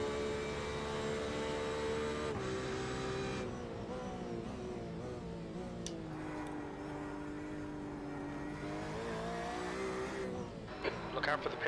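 Le Mans race car in a racing video game, engine droning steadily with shifting pitch as it slows into the pits under a full course yellow, with people talking over it.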